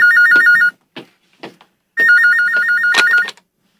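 A telephone rings in two electronic bursts of warbling trill, close and loud, with brief knocks and rustles in the gap between the rings.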